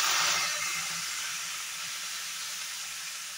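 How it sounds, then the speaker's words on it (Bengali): Ginger water hits a pan of oil-free mixed vegetables, giving a loud hissing sizzle at first that eases into a steadier, softer steam hiss. "নিচে যাতে লেগে না যায় একটু আদার জল দিয়ে দেবো।"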